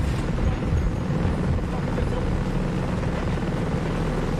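A helicopter in Tom Clancy's Ghost Recon Breakpoint produces a steady, loud rotor and engine drone throughout, with a player talking over it.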